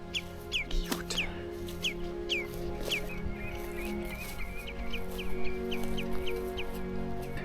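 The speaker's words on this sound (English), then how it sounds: "Some baby birds with the mother." Baby birds and their mother in the Arctic wilderness chirp in a run of short, high, repeated calls over a low steady hum, fairly close and without talk.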